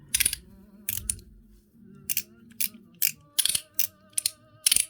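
Sharp mechanical clicks from a mechanical slider fidget toy in irregular bursts, some single and some in quick doubles, close and fairly crisp, with no talking.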